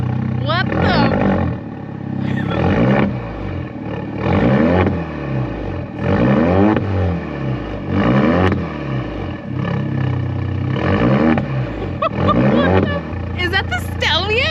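An Alfa Romeo Stelvio with its muffler deleted revs hard over and over, about seven loud, raspy bursts of rising and falling engine roar close by, with a low idle burble between them.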